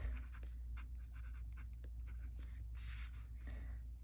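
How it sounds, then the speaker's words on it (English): Medium-nib fountain pen scratching across paper, soft close strokes in quick irregular bursts over a low background hum. "Now that I'm writing with this"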